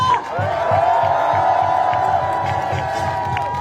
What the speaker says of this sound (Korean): 다시 한번 뜨거운 박수와 성을 보내주시기 바랍니다